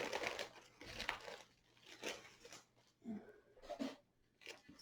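Crinkling and tearing of heavily taped packaging around a shipment of comic books, in close, uneven bursts of rustle and rip with short pauses between them.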